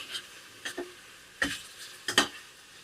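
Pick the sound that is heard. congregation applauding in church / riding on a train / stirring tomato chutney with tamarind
stirring tomato chutney with tamarind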